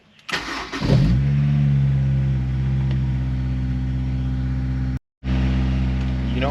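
Modified car engine cold-starting: a brief cranking burst, then the engine catches and settles into a loud, steady high idle with a strong low hum, briefly cutting out near the end before resuming.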